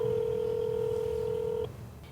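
A telephone number is tapped out on a phone keypad as one long, loud, steady dual-tone keypress, close up, that cuts off abruptly near the end, with no talking.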